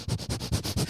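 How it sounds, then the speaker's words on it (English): Rapid, rhythmic sniffing right into a microphone, about six short close sniffs in quick succession with nothing else audible. "I was sniffing into the microphone"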